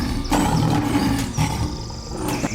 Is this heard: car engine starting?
no